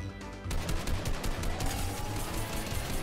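Rapid automatic gunfire in the video game Fortnite, a dense stream of loud shots starting abruptly and continuing steadily for a few seconds.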